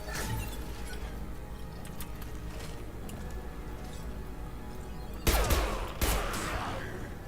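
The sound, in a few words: gunfire in the Mass Effect 2 video game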